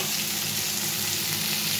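Vegetables seasoned with salt, turmeric, cumin powder and coriander powder fry in a pan, giving a dense, even hiss that holds steady and close throughout.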